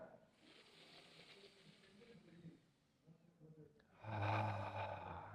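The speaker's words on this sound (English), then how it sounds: "One more cleansing breath." A slow cleansing breath in a guided breathing exercise, soft airy breathing at first, then a louder, fuller exhale rushing out near the end, close and alone.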